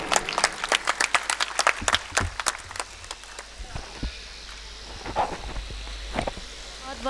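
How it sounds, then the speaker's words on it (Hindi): An audience at a talk on tribal religion bursts into loud, sharp, irregular clapping that thins out after a few seconds, leaving scattered claps and murmurs behind. "एक बार जोरदार तालियां बताइए"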